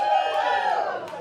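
A comedy club audience at Comedy House NOLA bursts into a short, loud roar of cheering and whooping, with many voices blending into one dense crowd noise.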